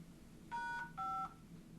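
Two crisp telephone keypad tones beep in quick succession, faint and steady over a low hum, as a participant on a webinar call dials from a phone.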